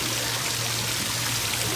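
Steady splashing of water flowing into a wishing fountain at Potter Park, a continuous close trickle and stream with no voices.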